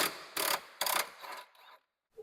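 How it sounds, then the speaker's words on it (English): A wrench working on the lower control arm bolts of a Ford Focus, a few quick bursts of rapid ratcheting clicks close by, separated by short pauses before a faint metallic tap. "Now we're going to remove these 2 bolts"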